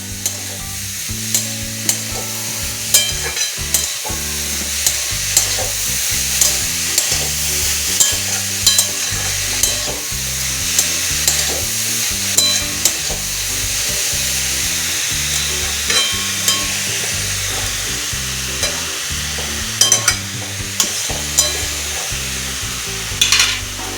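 Grated carrot sizzles in ghee while being stirred and scraped around a pan for carrot halwa, with a steady frying hiss and regular rhythmic scraping strokes, close up and uninterrupted by speech.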